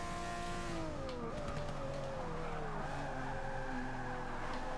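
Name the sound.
McLaren race car driving in video game Forza Motorsport 6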